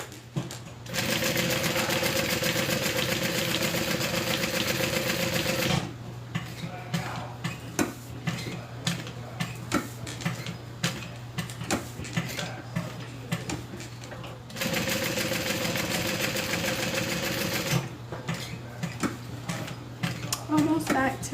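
A home sewing machine stitching fabric in two long, steady whirring runs, separated by a pause filled with soft clicks and handling noises, fairly quiet and close.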